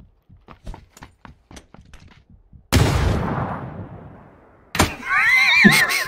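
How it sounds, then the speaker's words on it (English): A frag grenade goes off in a video game with a sudden loud, close blast and a long rumbling decay, preceded by light footsteps or taps and followed by a second burst with shrill screaming. "That's actually a frag grenade"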